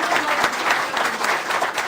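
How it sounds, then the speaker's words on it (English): A short burst of audience applause after a talk on a book tour, steady crowded clapping with a few sharper claps standing out, continuous and fairly loud throughout. "One more round of applause for this great presentation of these two guys."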